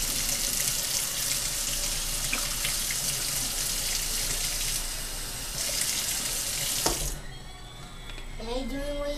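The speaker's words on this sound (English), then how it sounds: "I'm gonna rinse this crap out real quick" Water runs steadily and loudly from a tap while a container is rinsed out, then the flow cuts off near the end and a few clinks and a voice follow.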